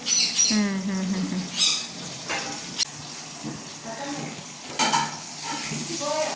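Onion and ginger frying in melted pork fat for a pork curry, a steady sizzle with stirring scrapes and a few sharp clatters over about six seconds, with faint background sounds.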